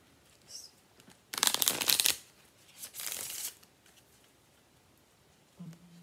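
A deck of cards being shuffled in two quick riffling bursts, the first longer and louder, in a quiet indoor room with faint background sounds between them.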